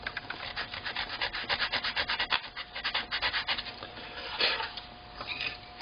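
Sandpaper rubbed over a wooden instrument plate during plate tuning, a close, quiet rhythmic scrubbing of rapid back-and-forth strokes with a brief pause midway and no talk.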